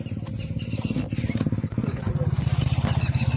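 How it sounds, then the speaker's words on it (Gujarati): Motorbike coming along a road on a hot, sunny day, its engine putting out a rapid, pulsing throb that grows steadily louder, with people talking nearby. "બાઇક આવે છે તો"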